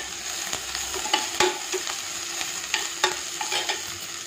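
Vegetables frying in a pan for vegetable biryani, with a steady sizzle and repeated scrapes and clinks from a spoon stirring, close and continuous with no talk.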